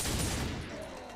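Rapid gunfire bursts from a Space Wolf's weapons in a Warhammer 40,000 video game, dense and loud throughout, trailing off slightly toward the end with no talk.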